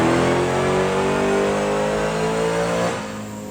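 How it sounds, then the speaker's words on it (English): A Dodge Demon engine fitted in a Viper SRT-10 revs hard on a dyno, a loud close roar climbing steadily in pitch for about three seconds before easing off. "Let's go hit the dyno."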